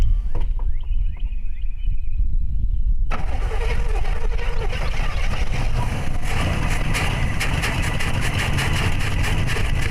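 An old car engine, unstarted for 10 years and with its hood removed, cranks with a rapid chugging rhythm, catches, and roars into a loud, rough running idle close by.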